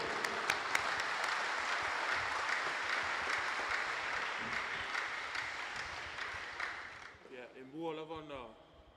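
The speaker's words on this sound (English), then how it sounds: "Let's clap one more time." Audience at a youth forum in American Samoa claps together in a sustained round of applause that slowly fades out, after which a person begins talking.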